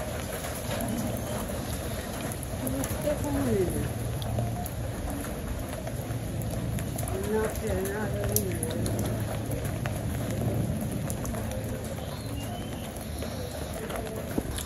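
Steady rain falls throughout a rainy day, a dense, even patter on surfaces close by, with faint voices and occasional clinks mixed in.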